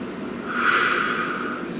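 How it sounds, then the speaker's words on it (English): One slow, deep breath drawn in close to the microphone, a soft airy rush that swells and then fades, heard on its own. "Please take a nice deep breath."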